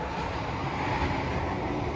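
Inside a moving train's stainless steel dining car on a run toward Banyuwangi, a steady low rumble and rolling hum fill the space evenly, with no clear voices.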